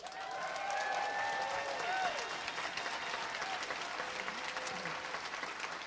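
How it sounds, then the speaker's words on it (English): Audience applause and cheering at a seminar, dense and steady throughout, with whoops and shouts from the crowd mixed into the clapping. "give these guys a big round of applause"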